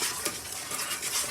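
A spoon scrapes and swishes briefly through food in a pot while seasoning goes into BBQ goat with potato salad and rice and peas, close and soft.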